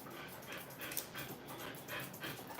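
Dogs pant in quick, rhythmic bursts close by, with a faint whimper mixed into the breathing and no talking.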